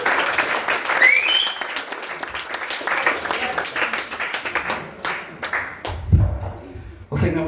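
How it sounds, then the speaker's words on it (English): A comedy club audience applauds and claps as a comedian is introduced onstage, a dense, continuous patter of hands lasting several seconds with some shouts mixed in. "So will you please put your hands together at the front and clap on back"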